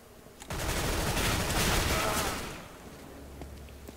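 Gunfire in a CS:GO round on the Cobblestone map: a dense, loud burst of overlapping shots that swells and then tapers off, leaving a low rumble behind.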